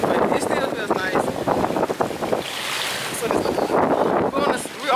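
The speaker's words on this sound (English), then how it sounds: "the wind is blowing and we're flying" Strong wind roars across the open deck of the Carnival Horizon cruise ship at sea, a loud continuous buffeting rush against the microphone. People talk under it the whole time.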